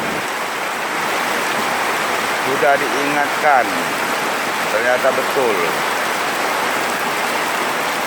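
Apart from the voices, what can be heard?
water flowing into residents' houses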